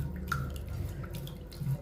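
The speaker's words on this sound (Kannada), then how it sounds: "ಇದನ್ನು ಇನ್ನೊಂದು ಸರ್ತಿ ನೀರು ಹಾಕಿ ತೊಳೆದೆ" Water sloshes and drips in a basin as food is rinsed by hand, with soft splashes and trickles close by.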